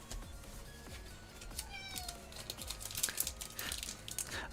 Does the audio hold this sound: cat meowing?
yes